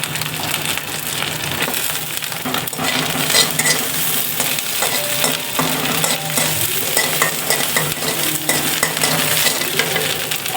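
Garlic fries in hot oil in a pan where dried fish was just fried for a spicy mash. A continuous, close sizzle plays with occasional stirring and scraping sounds, and no one speaks.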